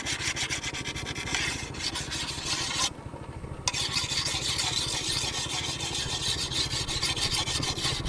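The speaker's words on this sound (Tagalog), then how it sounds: "Malapit ang paghahasa. Para matalas pang laplap." A file grinding along a blade to sharpen it during traditional rice seedbed preparation, a dense, continuous rasping close up, broken by one brief pause near the middle.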